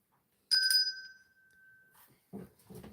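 A hand bell rings once with a bright, sustained tone that decays over about a second and a half, followed by people talking nearby.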